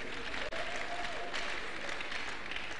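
Audience at a church forum applauding, a sustained wash of clapping from a crowd that fills the room evenly throughout.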